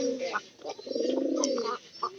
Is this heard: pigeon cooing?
yes